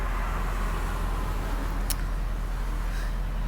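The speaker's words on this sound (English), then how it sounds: "traffic is very busy right now" Busy road traffic passes near a front porch outdoors, a continuous low roar of cars with a brief brighter swish midway, steady and moderately distant.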